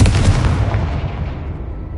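Confringo blasting spell detonating in Hogwarts Legacy, a loud, close boom with a heavy low rumble that fades away over about two seconds, with no voices over it.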